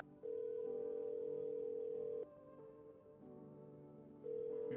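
A telephone ringtone from the video game Who Is Human sounds as a steady electronic tone in long repeated bursts with short pauses, clear and alone.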